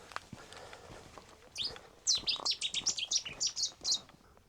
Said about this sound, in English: I don't know what bird that was, but it was loud.